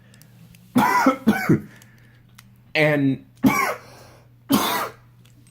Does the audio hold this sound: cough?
yes